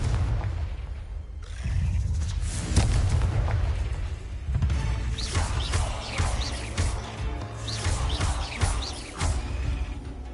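The Confringo blasting spell explodes in Hogwarts Legacy amid combat, a string of deep booming bursts and crackling impacts rolling over ten seconds, loud and close, with scattered sharp magical zings layered on top.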